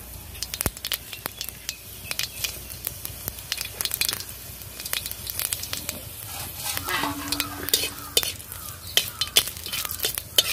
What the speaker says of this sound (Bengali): সবগুলো একটু ভালো করে একটু ভেজে নেব।